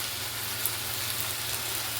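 Even, continuous sizzle of potol (pointed gourd) frying in a pan in a village kitchen, a close, steady hiss with a faint low hum underneath and no talking.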